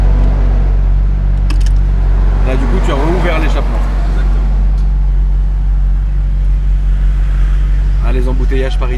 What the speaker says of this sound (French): tu as rouvert l'échappement